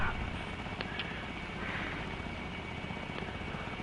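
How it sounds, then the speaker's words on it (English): An airplane engine drones steadily overhead in the War Thunder video game, a continuous broadband roar at low level with faint short clicks, and no speech over it. "I hear another airplane."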